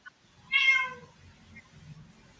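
A single clear, close cat meow, rising and falling in pitch for about half a second, followed by faint low background noise.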